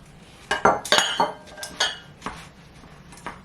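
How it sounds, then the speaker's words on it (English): A utensil presses buttered crust into a springform pan, making a short run of close, sharp metallic clinks and scrapes against the pan, with no talking. "Now we're gonna press it into the spring form"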